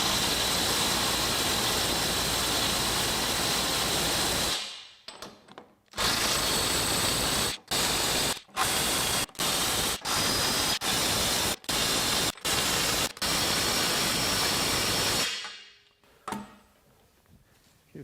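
A Milwaukee M12 Stubby cordless impact wrench runs hard on a bolt in a loud, continuous buzzing hammer. After a brief pause it fires again with rapid stuttering pulses, then falls quiet.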